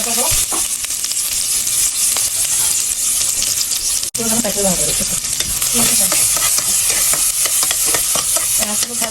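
Onions dropped into hot oil fry with a loud, crackling sizzle, punctuated by scraping stirs and clinks of a utensil against the pan, with a brief break midway before the frying resumes just as strongly.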